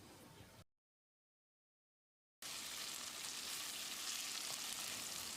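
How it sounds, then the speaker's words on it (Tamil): Paneer pieces frying in a pan for hotel-style paneer biryani give off a brief sizzle, then total silence, then a strong, continuous close-up hiss of frying, with no talking. "1 நிமிஷம் இதை நல்லா ஃப்ரை பண்ணிக்கலாம்."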